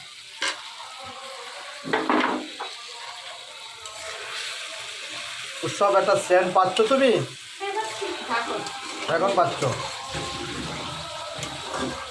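Fried potatoes go into a hot pan for home-made biryani, giving a close, steady sizzle broken by clattering stirs and scrapes against the pan, with brief louder bursts and no clear talking.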